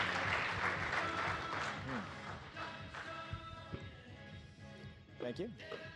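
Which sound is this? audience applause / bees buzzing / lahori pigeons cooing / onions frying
audience applause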